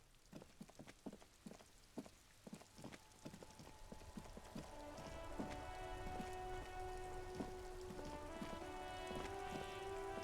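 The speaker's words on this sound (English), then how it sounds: "It's raining again." Rain falls in the video game Disco Elysium, starting as scattered distinct drop taps that thicken into a steady soft patter, with faint tonal music rising beneath.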